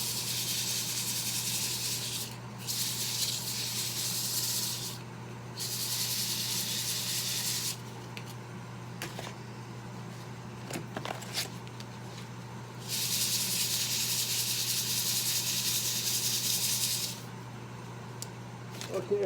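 Hand sanding with old, long-stored sandpaper, the rough scratchy rubbing coming in steady bursts of several seconds with short pauses between them, close and fairly loud, and a person speaks in between.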